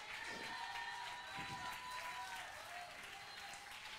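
A church congregation claps in a dense, steady wash of applause, faint and distant, with a voice or murmur mixed in beneath it.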